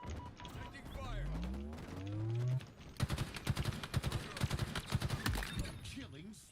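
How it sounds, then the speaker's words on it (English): Rapid bursts of automatic gunfire in a competitive shooter video game, sharp repeated shots dominating the second half, preceded by game sounds and a person speaking. "Taking fire."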